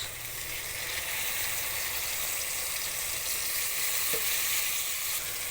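Soy sauce hitting chicken fried rice in a hot pan, a steady, close, continuous sizzle of frying with light stirring, no voices.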